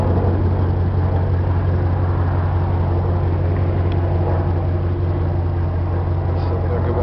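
A Dodge Ram pickup on 35-inch tires cruises along with a steady, moderate low engine and road drone heard from inside the cab, while someone talks over it.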